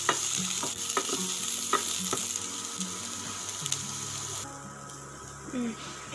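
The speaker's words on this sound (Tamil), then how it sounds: "இப்போ இஞ்சி பூண்டு வதக்கின பிறகு ஒரு 2 மீடியம் சைஸ் வெங்காயம் ஆட் பண்ணிக்கிறேன்." Onions sautéing in a pan after ginger and garlic, a steady close sizzle with a few scraping stirs of a spoon early on, then a softer, quieter fry.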